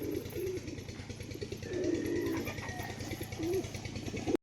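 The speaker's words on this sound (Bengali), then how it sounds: "বাচ্চা পায়রা দেখলে সবাই ডাকে" Pigeons coo in a steady, low repeating rhythm at close range, with several birds calling together and no talk over them, before a brief thump at the end.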